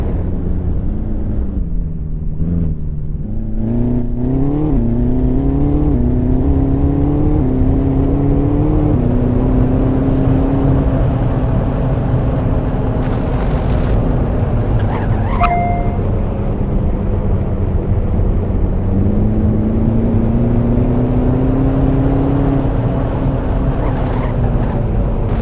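A car being driven, its steady loud engine drone rising and falling with gear changes and speed, close and continuous, with brief faint chimes midway.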